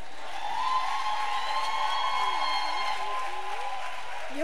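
Applause from an audience at a women's church conference, steady and sustained throughout, with a voice speaking over the clapping near the microphone.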